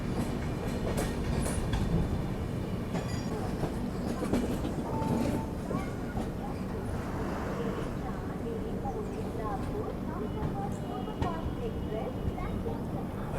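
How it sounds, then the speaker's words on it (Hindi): A Pune–Nagpur Humsafar Express pulls into Akola Junction in Maharashtra, its steady rumble and clatter of coaches rolling on close by throughout, with muffled voices mixed into the noise. "अपने समय से लगभग 6 मिनट बिफोर टाइम अपनी पुणे नागपुर हमसफ़र एक्सप्रेस पहुंच चुकी है यहाँ पे अभी महाराष्ट्र के अकोला जंक्शन पर।"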